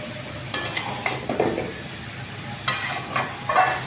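Chalta (elephant apple) pickle with its spice mixture being stirred in a pan, giving a few separate scraping clinks of a spoon against the metal, moderately close and loud, with short quiet gaps between strokes and no talk.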